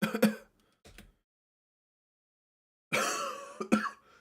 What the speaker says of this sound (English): And your own coughing.